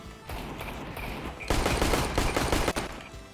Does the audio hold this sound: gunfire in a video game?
yes